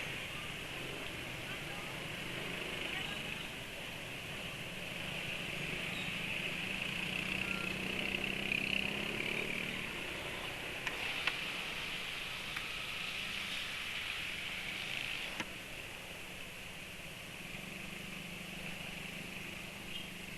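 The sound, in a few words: motorcycle engine running smoothly after hot ride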